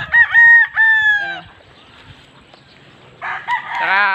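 Roosters crow close by on a farm: two strong crows at the start, a quieter stretch of low clucking, then another crow rising at the end.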